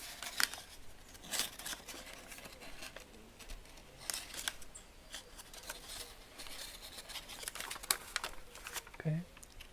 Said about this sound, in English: make a little valley fold here